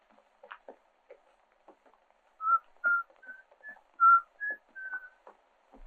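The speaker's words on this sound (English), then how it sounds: "Listen, somebody's whistling Yankee Doodle." Someone whistles Yankee Doodle in a string of clear, moderately loud notes, with faint scattered clicks and taps around the tune.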